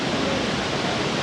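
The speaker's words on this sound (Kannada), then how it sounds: "ಭೀಮೇಶ್ವರ ವಾಟರ್ ಫಾಲ್ಸ್ ಬಂದಿದ್ದೀವಿ" Bhimeshwara waterfall during the monsoon, a dense, steady rush of falling water filling the air.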